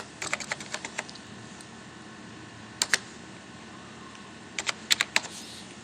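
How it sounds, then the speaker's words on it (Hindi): Keystrokes on a computer keyboard while filling an Excel data-entry form, coming in quick clustered bursts of crisp clicks separated by quiet pauses, close and clear. "तो इसलिए यहीं पे टाइप कर देंगे।"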